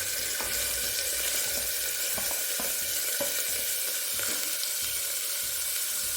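Sliced onions sizzle steadily in hot oil in a pan for a vegetable side dish, a loud continuous frying hiss broken by occasional clicks and stirring scrapes, with no speech.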